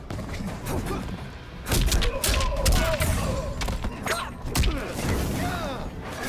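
Heavy thuds and impacts from a fighting-game throw in Mortal Kombat 11, several loud hits around the middle, layered over game music and effects, with Liu Kang in the fight.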